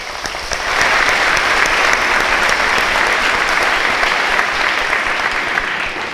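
Loud, dense applause from a large crowd at a college commencement ceremony, honoring the staff, sustained and steady throughout with no talking.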